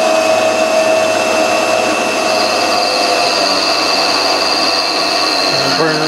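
A mini lathe runs steadily while dead centers are ground on it, giving a continuous motor whine with a high, even grinding tone that holds close and loud throughout.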